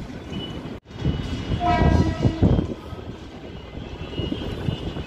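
A train passing on a railway line seen from a high-rise tower by the Arabian Sea at night, a broad distant rumble swelling and fading, with a brief horn-like tone partway through.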